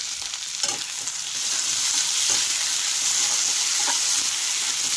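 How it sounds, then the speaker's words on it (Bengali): Potato pieces fry in a pan with a constant close sizzle that swells and thickens after the first second, broken by occasional soft stirring scrapes. "আলুগুলো দেখুন একটু ভাজা ভাজা হয়ে গেছে।"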